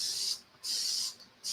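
Cooking spray is spritzed in three short bursts of bright hiss, each under a second long with brief pauses between them, close and clear with no talk.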